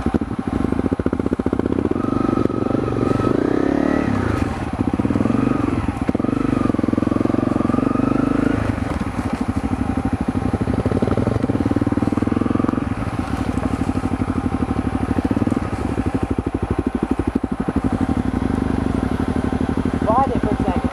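A Honda CRF250L dual-sport motorcycle engine runs on a trail ride, a continuous throaty rumble that rises and dips slightly, with people talking over it.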